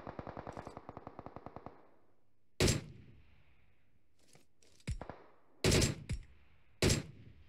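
Gunfire in the mobile battle-royale game PUBG Mobile: a rapid burst of automatic shots opens, followed by several loud, separated single shots and short bursts with echoing tails and quiet gaps between.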